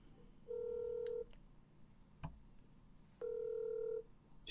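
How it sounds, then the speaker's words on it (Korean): Two sustained tones of a telephone dialing a call, each lasting just under a second, with a short click between them, heard alone against quiet background hiss. "이제 전화 통화를 하겠습니다."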